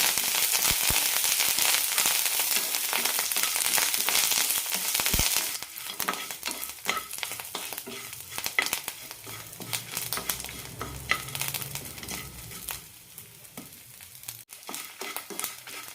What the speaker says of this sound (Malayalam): അഞ്ച് മുളക് ഇടുന്നുണ്ട് കറിവേപ്പില നല്ല ക്രിസ്പിയാക്കി കിട്ടണം